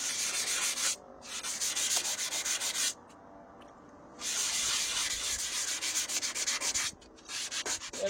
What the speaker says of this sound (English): Wet sanding is pretty basic. It's just what it said. It's sanding while it's wet.